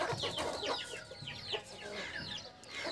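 Aseel roosters and desi chickens on a small free-range poultry farm cluck and call in a busy, overlapping chorus, close and moderately loud over steady outdoor background noise.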